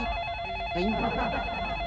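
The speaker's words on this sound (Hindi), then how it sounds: "लगता है शेखू का फोन है, अंदर से उठा है।" A telephone rings indoors in a Hindi TV sitcom scene, a steady electronic tone with a brief rise in the middle, moderately loud and heard alone.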